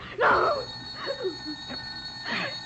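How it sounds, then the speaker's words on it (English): An old-time telephone bell in a vintage detective radio drama rings in short bursts, repeated about three times, moderately loud and close, with a brief spoken word between rings. "That's the phone"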